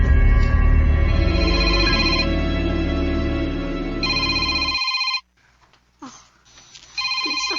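A telephone rings loudly in repeated electronic bursts indoors, the rings broken by short gaps, with brief sounds in a pause before the ringing starts again.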